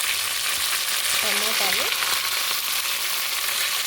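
Mint, coriander and curry leaves fry in a pan with a dense, continuous sizzling hiss, close and loud, while a voice briefly speaks over it.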